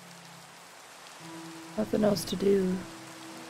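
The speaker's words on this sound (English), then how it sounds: "I'm mining in the rain." Steady Minecraft rain falls as a constant soft hiss throughout, with a voice talking over it briefly in the middle.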